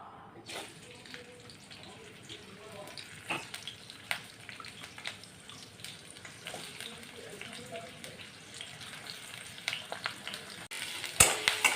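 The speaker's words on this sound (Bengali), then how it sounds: "এবার আমি কুচি করে রাখা পেঁয়াজগুলো আগে দিয়ে দেব তেলের মধ্যে" Chopped onions hit hot oil and set off a sudden sizzle that settles into a steady crackling fry, with sharp pops and stirring knocks, heard close and fairly quiet.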